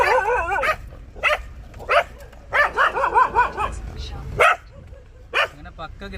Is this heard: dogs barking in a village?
yes